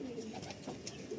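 Adult Madrasi pigeons coo softly in a loft, a few low, rounded coos rising and falling over a steady faint background, with no talking.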